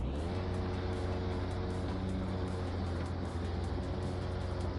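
A car engine idles and runs in Car Mechanic Simulator 2021 as a continuous, steady mechanical drone with a low hum and a slightly rattly texture, comparable to a mowing machine, holding even throughout.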